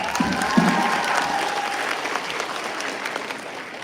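Live audience applause at a medical faculty event, a sustained wash of many hands clapping, fairly loud at first and gradually easing off.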